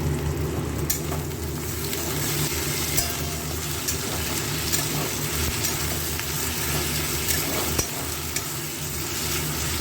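Onion fries in oil with garlic, ginger and green chili paste for an echor chingri curry, making a loud, dense, unbroken sizzle up close with faint stirring scrapes mixed in.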